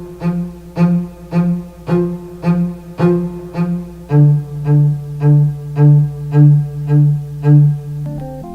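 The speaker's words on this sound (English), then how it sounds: "And we also have strings, which sound like this." Strings in a song chorus pulse in steady, evenly spaced bowed swells, first on a mid pitch and then shifting to a deeper sustained line, with a soft backing underneath and no talking.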